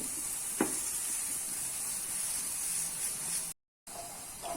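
A few teaspoons of cooking oil go into a hot pan for sambar masala, giving a faint, steady hiss with a soft sizzle, quiet and close, with no talking.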